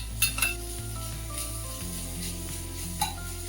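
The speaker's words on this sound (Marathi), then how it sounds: "कांदा पण चांगला परतून घ्यायचा आहे, त्याचा कच्चेपणा गेला पाहिजे." Onion with ground chili, ginger and garlic paste sautés in a pan, a soft, steady sizzle with stirring and a few light clinks of a utensil against the metal, fairly quiet.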